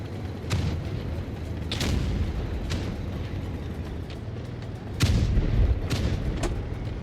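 Tank cannons firing and shells exploding in World of Tanks Blitz: several heavy booms spaced a second or two apart over a rumbling battle bed, loud and close, with no voices.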